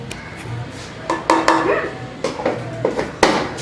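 A lid set onto a bowl of marinated chicken gives a few close metallic clinks and clatters, short knocks spread across a few seconds in a quiet kitchen.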